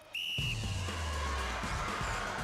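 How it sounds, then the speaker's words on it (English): A referee's whistle at a Gladiators TV competition gives one short sharp blast to start an event, followed by a loud broad crowd roar and arena noise. "Contenders, you will go on the first blow of the whistle."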